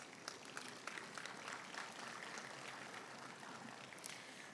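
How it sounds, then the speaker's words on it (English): Audience at a city State of the City address applauding, a faint steady patter of many hands clapping heard from a distance, with no talk over it. "So let's give them a big round of applause."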